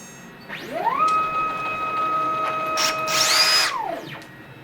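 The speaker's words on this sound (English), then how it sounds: "I then screwed down the disc with a cup washer and recut the outside parts" A home-built CNC router with SBR20 linear rails and SFU1605 ballscrews recuts the outside of a disc. Its spindle whine sweeps up to a steady high tone and holds, a harsher burst of cutting noise joins near the end, then the pitch winds back down.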